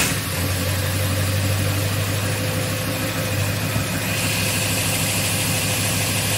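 A Ford 7.3 Powerstroke diesel in an older Ford pickup idles steadily after starting, a loud, even low rumble with a constant hum and no talking.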